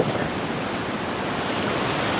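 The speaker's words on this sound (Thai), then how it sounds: "เปิดกล้องมาก็มาพบกับบรรยากาศทะเลนะครับทะเลหัวหินนะพี่น้อง" Sea waves washing onto Hua Hin beach in Thailand at sunrise, a steady, broad, continuous surf wash with light wind noise, heard alone without talk.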